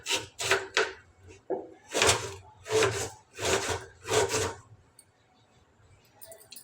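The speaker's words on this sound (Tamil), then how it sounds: "இப்போ ஒரு வெங்காயம் நல்லா பொடியாக கட் பண்ணி எடுத்துக்கலாம்." A knife chops onion finely on a board for tomato dosa, a run of rough, scraping cuts in bursts, then a pause, close and moderately loud.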